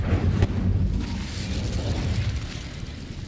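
A fire spell cast in the video game Hogwarts Legacy gives a deep whooshing burst of flame that rolls out loud at first and then settles into a lingering low roar.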